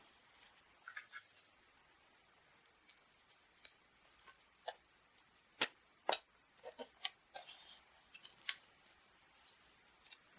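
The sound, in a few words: cutting self-adhesive paper square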